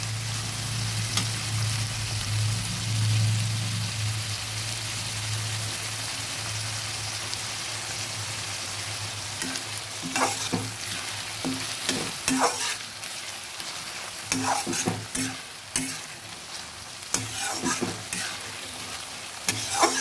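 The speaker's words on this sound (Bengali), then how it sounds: "পেঁয়াজগুলো প্রায় ভাজা হয়ে এসেছে।" Steady sizzle of onions frying in a pan, with scraping stirs and clinks from about ten seconds on; no talking.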